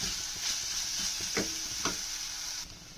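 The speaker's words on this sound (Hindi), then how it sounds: "अब उसके बाद हम इसमें half tea spoon ginger garlic paste शामिल करेंगे और उसको भी इसमें स्लोली फ्राई करेंगे।" Ginger garlic paste frying in a pan with a steady sizzle, a few scraping stirs of a spoon cutting through, close and fairly loud with no talking.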